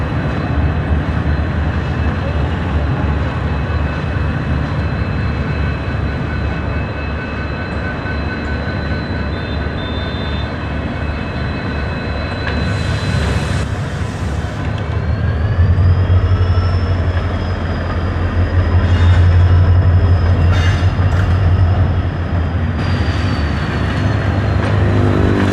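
A train with a locomotive and carriages passes in India, a steady rumbling roll of wheels on rails that swells louder toward the end, with high squeals and clanks over the continuous mechanical drone.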